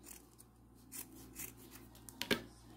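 A single crisp snip of scissors cutting satin ribbon while making a bow, near and brief, following soft handling and rubbing noises.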